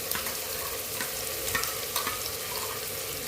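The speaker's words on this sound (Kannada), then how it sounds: "ಇದು ಹಸಿ ವಾಸನೆ ಹೋಗುವವರೆಗೂ ಫ್ರೈ ಮಾಡ್ಕೊಳ್ಳೋಣ" Ground masala frying in a pan for a minced meat ball gravy, a steady close sizzle with soft scraping stirs, no voices.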